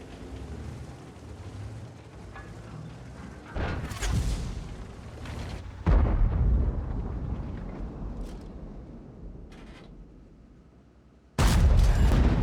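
Tank cannon shots and shell impacts in the World of Tanks video game, playing an Object 277 on the Mountain Pass map: a few heavy booming blasts over a low rumbling battle bed, moderately loud and spaced apart.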